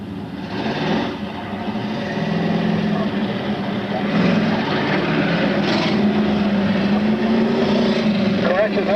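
Race cars powered by Yamaha FJ 1200cc motorcycle engines drone and whine around a racetrack, a continuous rising and falling engine roar under a voice talking over it.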